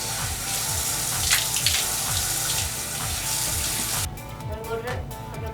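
Water runs steadily from a tap into a sink while a face is rinsed, a close, continuous splashing rush that thins out near the end, with no speech over it.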